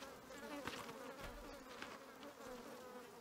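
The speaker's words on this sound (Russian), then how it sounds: "Мухи, блядь." Flies buzz continuously in the survival game The Forest, a steady mid-level insect drone with faint rises and small clicks, no talk over it.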